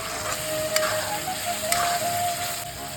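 A paste of ginger, garlic and green chili sizzles steadily in a hot pan while it is stirred and fried for a duck curry, giving a constant close frying hiss with two brief clinks from the spoon.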